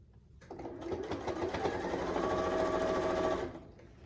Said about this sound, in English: Stitch a few more inches and do the same.